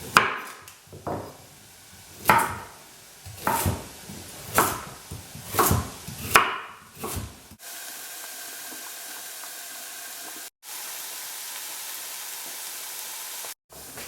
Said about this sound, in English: So next up I'm going to chop up the carrots